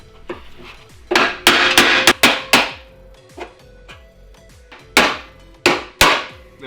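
Sharp hammer blows drive wooden sticks as wedges into a bent, welded frame rail of a wrecked 2017 Ford Focus RS, landing in irregular clusters of loud, close knocks with short pauses between them.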